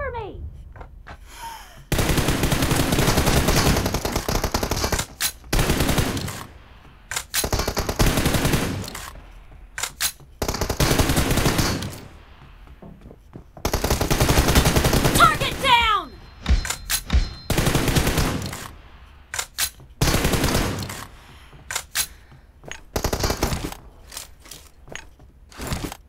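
Bursts of automatic fire from an M416 rifle in an online shooter game, loud, close and repeated in long sustained volleys separated by short pauses, with a few isolated single shots.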